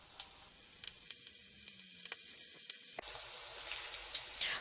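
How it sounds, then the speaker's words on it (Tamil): Thick cabbage pakoda batter drops into hot oil for an evening snack, giving a quiet crackling sizzle that swells louder partway through, close and with no talking. "இப்போ நம்ம சூடான எண்ணெயில் போண்டா மாதிரி போட்டு எடுத்துடலாம்."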